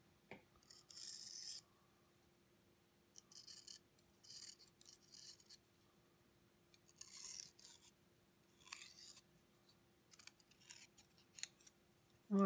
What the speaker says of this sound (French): Ensuite, le cutter.